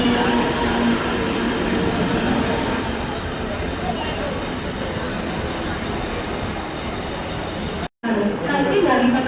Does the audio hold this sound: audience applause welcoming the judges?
no